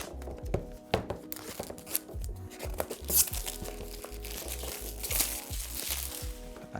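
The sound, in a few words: knife cutting cellophane off a DJI Osmo Action 4 box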